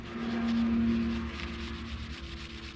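Foil being rubbed onto a custom fishing lure, a soft, steady close-up rubbing and scuffing that fades slightly toward the end, with no talking.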